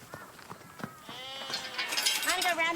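Sheep bleating on a farm, a few wavering calls building toward the end and growing louder, mixed with other sounds around a working livestock yard.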